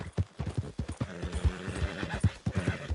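Horse hooves clip-clopping at a steady walking rhythm in Red Dead Redemption 2, close and clear, with a brief whinny and soft tack noises mixed in.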